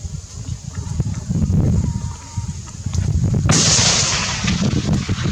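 Rifle shots crack during pre-season target shooting outdoors, several sharp reports in fairly quick succession with a loud burst of noise midway, heard close by with little talk.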